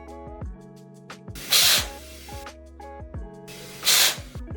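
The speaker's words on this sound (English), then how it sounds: "blow it out or just use a blower to remove any internal debris" Two short bursts from an air blower hiss into the extruder channel of a Bambu Lab P2S 3D printer hotend, each about a second long, between quieter clicks and handling taps close by.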